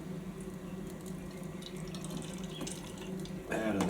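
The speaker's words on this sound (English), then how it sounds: "I might just try and pour some of this liquid" Cooking liquid from goulash with potatoes trickles and splashes steadily out of a pot at close range at a camp, growing louder near the end as the pour gets heavier.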